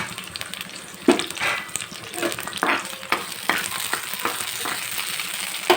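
Peanut and coconut chutney ingredients fry in a pan with a steady close sizzle and scraping stirs, dense and continuous with occasional louder scrapes, no voices.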